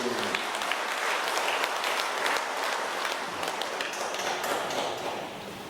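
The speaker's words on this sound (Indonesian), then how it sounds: "Kita berikan tepuk tangan aplaus yang meriah" An audience at a regional women's forum assembly breaks into sustained applause, a dense wash of many hands clapping that holds steady and then eases slightly near the end, with faint voices mixed in.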